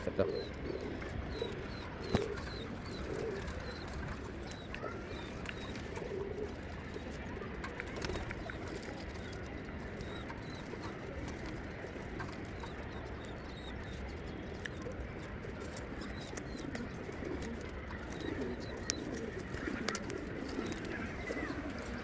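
Pigeons coo softly and repeatedly in the background of a loft, faint rhythmic calls that recur throughout alongside a person talking at low volume.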